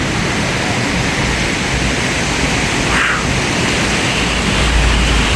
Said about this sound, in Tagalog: nagising ako sa ng lakas ng hangin at saka yung hampas ng alon